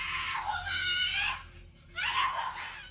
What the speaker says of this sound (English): Someone can be heard screaming for help,